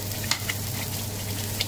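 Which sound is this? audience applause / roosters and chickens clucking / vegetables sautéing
vegetables sautéing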